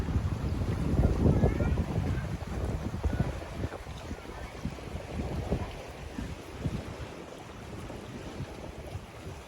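Strong wind gusts buffet the microphone at a dam reservoir in Chaiyaphum, a steady low rumble with rising and falling surges and a faint wash of water beneath.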